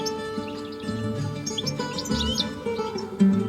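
A European goldfinch sings in Algeria, bright twittering chirps and short trills over a steady, busy background hum, fairly close and continuous throughout.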